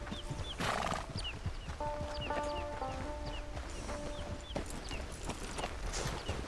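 Horse hooves clip-clop in Red Dead Redemption with some whinnying, a steady light clatter under a busy game mix of ambience and birds over about six seconds.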